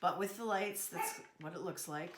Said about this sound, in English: Sorry about the dog bark.